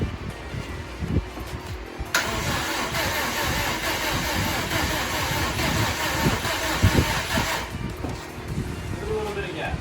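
An EJ257 engine turns over and runs for the first time, a steady mechanical hum with a sudden onset that holds for several seconds before dropping away, under voices talking nearby.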